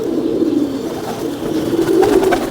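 Ferozpuri pigeons coo in low, throaty, rolling phrases, two swelling bursts close by over a steady hum of background noise.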